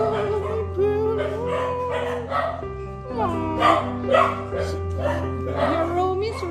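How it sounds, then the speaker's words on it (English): Several dogs bark, yip and whimper in an excited mix close by, with a voice talking warmly over them throughout. "Oh, there are so many dogs, Foxy."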